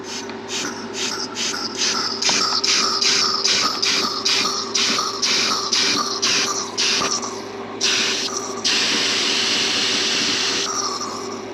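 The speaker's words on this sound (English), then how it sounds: "it's basically a pressurized can that you spray through one end" A loud, steady pressurized hiss of cleaner sprayed from a pressurized can through the AC condenser of a 2017 Honda Civic, in rapid pulsing bursts, then a longer continuous blast, close up with a low hum underneath.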